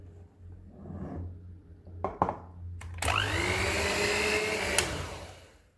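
A steady electric mixer whirs as it beats butter with sugar for a coconut dry cake. A few clicks come first, then the motor runs alone at an even pitch for a couple of seconds before stopping.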